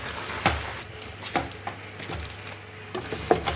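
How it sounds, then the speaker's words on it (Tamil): Country chicken fry stirred over the heat after a handful of coriander leaves goes in, a soft continuous sizzle punctuated by several sharp scrapes of a spoon against the pan, moderately near and with no voices. "போட்டு இந்த ஹீட்லேயே நல்லா கொஞ்சம் கிண்டி விட்டுலாம்"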